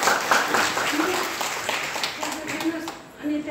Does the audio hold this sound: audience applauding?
yes